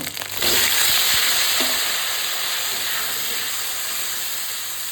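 Ginger and tomatoes drop into a pan of hot oil over medium heat, setting off a sudden loud hiss that settles into a steady, slowly easing sizzle.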